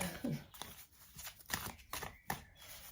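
Tarot cards being shuffled by hand, a quiet run of soft riffling and slapping bursts in an irregular rhythm, close to the microphone, with a faint murmur near the start.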